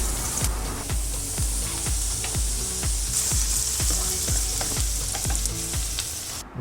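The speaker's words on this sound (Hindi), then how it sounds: "प्याज को अच्छे से भून लीजिए तब तक लाइट गोल्डन ब्राउन कलर ना आ जाए" Onions and green chillies fry for paneer bhurji in a continuous hot sizzle, punctuated by a regular rhythm of spatula strokes scraping the pan about twice a second.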